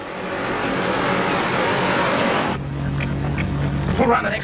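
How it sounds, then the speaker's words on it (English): A car from a 1952 film drives along the road, its engine drone steady and close, then easing into a lower hum as the scene changes partway through. "There's a car following us."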